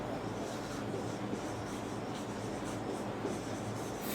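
Pen or pencil writing on paper during a class 6 maths exercise, a steady soft scratching that runs continuously for a few seconds, close and fairly quiet, with no voice.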